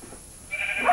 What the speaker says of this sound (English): Certain situations when we're trying to kill my sheep.